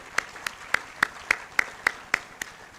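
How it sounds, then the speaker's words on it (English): Slow, evenly spaced single handclaps, about eight sharp claps at a steady rhythm, close and distinct, welcoming a speaker at a career day forum. "Please welcome him with a round of applause as well."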